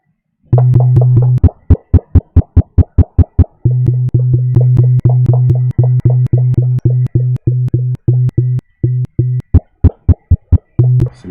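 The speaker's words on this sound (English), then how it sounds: "So now that sounds like a kick drum, right?" Processed synthetic kick drum hits, a rapid repeating pattern of punchy tonal thumps with some short and some longer sustained notes, loud and alone.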